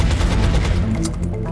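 Gunfire from the video game XCOM Enemy Within: a loud, dense burst of shots that fills the whole moment with no voices over it.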